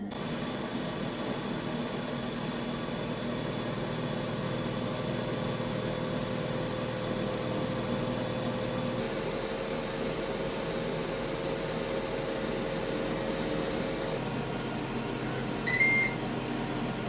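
A Ninja grill preheating on high gives a steady, even fan-like hum with faint tonal whine throughout, shifting slightly partway through, and a short electronic beep near the end.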